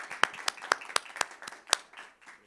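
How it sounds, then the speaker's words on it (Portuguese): A small audience claps to welcome journalist and writer Carlos Marcelo onto the stage of the Armando Nogueira auditorium at a book fair, with sparse, distinct handclaps ringing out unevenly for a couple of seconds, no talking. "Palmas para o Carlos Marcelo"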